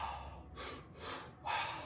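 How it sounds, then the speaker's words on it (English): Three-part shamanic breath, drawn in through the belly and then the lungs before release, heard as three close, breathy airy pulses in quick succession. "So it's an inhale through your belly, an inhale through your lungs, letting go."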